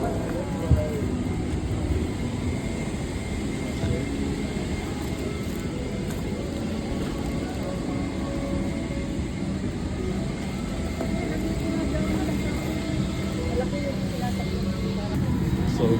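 The cabin of a large passenger airplane during boarding fills with a steady low hum of ventilation and engines, with a constant wash of background noise and people talking and moving nearby.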